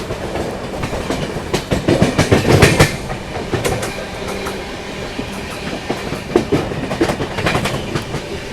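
The 14005 Sitamarhi–Anand Vihar Lichchhavi Express passes a level crossing, a loud, close rumble with steady clickety-clack of wheels over rail joints running throughout, no voices.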